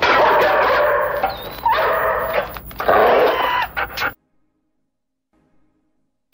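A dog barks and yips excitedly in repeated bursts, loud and near, with whining squeals between barks, then falls silent.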